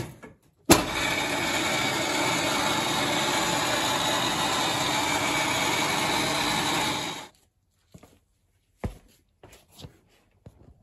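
A car lift raising a 1987 Peugeot 205 GTI 1600 in a garage gives a loud, steady electric motor whine that runs about six seconds and then cuts off, followed by a few faint clicks and knocks.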